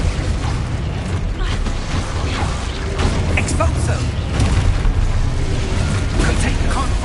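Expulso blasting spell erupting in Hogwarts Legacy on PlayStation 5, a dense rumbling burst of game explosions and mechanical crashes layered with battle effects and faint voices throughout.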